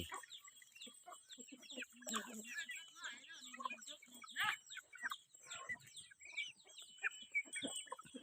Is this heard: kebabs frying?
no